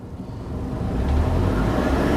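A car engine revs up steadily during electronically controlled transmission diagnosis in a workshop, a close, rising hum and rumble that builds in loudness and holds near the end.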